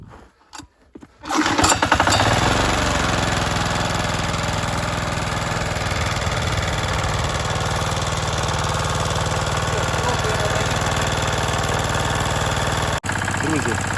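A small petrol engine on a garden cultivator, run again after winter, catches after a brief rattling pull and settles into a loud, steady idle that drones on close by for over ten seconds before a short dip.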